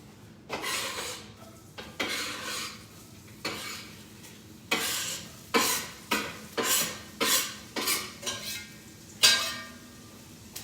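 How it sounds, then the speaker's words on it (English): Peppers and onions sauté in oil in a pot while a spoon scrapes and stirs in repeated bursts, a rhythmic series of close scraping strokes over a faint sizzle, with no voices. "we got to have a little time while the peppers and the onions are sauteing"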